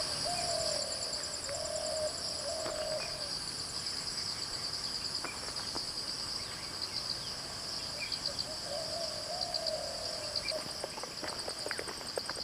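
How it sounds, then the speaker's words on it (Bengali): Birds call along a quiet red dirt road through a remote tribal village with green trees. Soft hooting phrases repeat over a constant shrill hum of crickets and insects, with no voices. "আছে পাখির ডাক"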